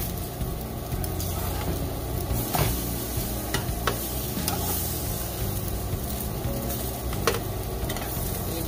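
Homemade French toast frying in a pan after being flipped to brown the second side, giving a steady, dense sizzle throughout with occasional small pops and crackles, close and alone.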